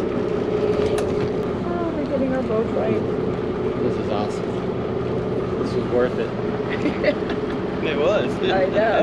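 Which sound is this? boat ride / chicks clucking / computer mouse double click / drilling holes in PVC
boat ride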